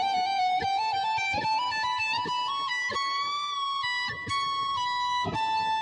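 A distorted electric guitar plays a fast trill of hammer-ons and pull-offs high on the first string, a bright sustained line that wavers quickly between notes, close and loud with no voices.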